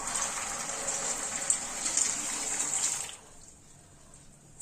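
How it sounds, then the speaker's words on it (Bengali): Shelled green peas tipped into a pan of hot, not-quite-boiling water, a steady watery gushing and splashing for about three seconds, then stopping abruptly to a quiet background. "এরপর ছাড়িয়ে রাখা মটরশুঁটিগুলো দিয়ে দেবো।"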